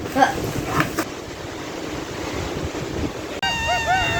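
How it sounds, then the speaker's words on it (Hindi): Khamosh waterfall near Skardu sprays water with force, a dense close roar and buffeting wind on the microphone, followed near the end by a brief voice. "पानी जो है वो स्प्रिंकल इतना ज़्यादा हो रहा था कि मोबाइल तो बार बार ही भीग रहा था।"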